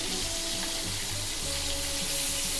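Lamb sears in a hot pan with a steady, loud sizzle and crackle, close up and continuous, with faint clinks of cookware underneath.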